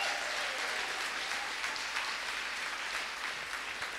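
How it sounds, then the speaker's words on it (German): Applause for school students at a stage performance, a dense, steady patter of many hands clapping throughout, fairly distant in a hall. "Einen Applaus noch"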